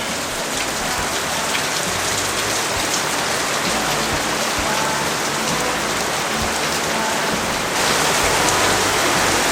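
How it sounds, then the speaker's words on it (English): Heavy rain pours down on Samar island in the Philippines, a dense, steady hiss of water on surfaces that swells slightly louder near the end, with no voices. "And boy, was the rain ever coming down when we woke up the next morning."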